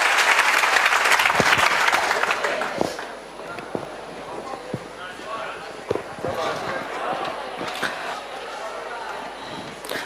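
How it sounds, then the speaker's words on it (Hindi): Students in a classroom clap for their teacher, loud applause for about three seconds that thins to scattered claps, with people talking underneath. "चलो ताली बजाओ पहले सर के लिए।"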